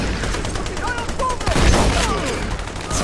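Gunfire in the video game Army of Two: The Devil's Cartel, a steady dense stream of shots and battle noise running throughout, with players talking over it.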